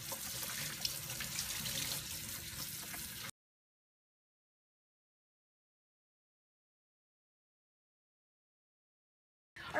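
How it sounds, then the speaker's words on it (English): Tap water runs over a cotton t-shirt dyed with Rit Dye as it is rinsed, a steady hissing splash for about three seconds, then cutting to silence before a brief return of sound at the very end. "So I'm gonna start rinsing and see how long that takes."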